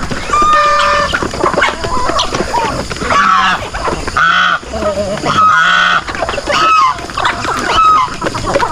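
A noisy flock of chickens and turkeys honks, gobbles and clucks in overlapping bursts, loud and close, with calls rising and falling throughout.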